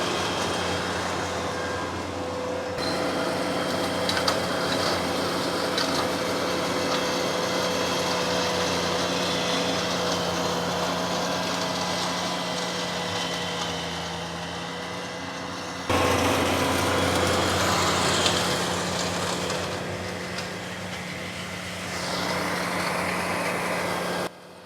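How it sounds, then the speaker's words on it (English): Ventrac tractor with a front-mounted flail mower cutting through an overgrown weedy field, a loud steady engine drone with a constant whirring hum that shifts level partway through and runs without talk. "You're able to mow down the weeds before you run over them with the machine."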